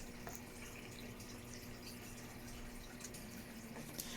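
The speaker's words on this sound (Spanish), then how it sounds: "Vamos a agregar agua a través de la que tenemos de pH 8" Water pours steadily into a home aquarium during pH adjustment, a soft continuous trickle and splash that stays even and fairly quiet throughout, with no voices.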